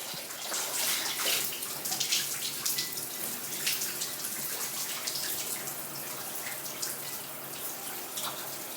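Steady water from a tap runs continuously while curly 3C/4C hair is being shampooed, a broadband splashing hiss at moderate level with small drips and no talking.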